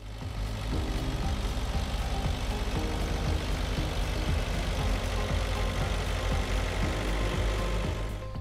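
A tractor pulling a solid-fertilizer spreader during a calibration pass over a field, its engine a steady, loud, low rumble that continues throughout with no talk.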